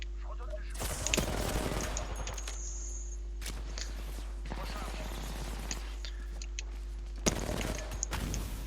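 Bursts of automatic gunfire from a ranked online video game crackle in several separate volleys, fairly faint under a steady electronic hum, while a player talks between them.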